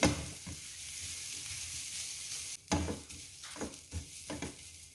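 Onions dry-roasting in a pan with no oil give a steady, moderately close sizzle, broken by several short scraping bursts as a spoon stirs them.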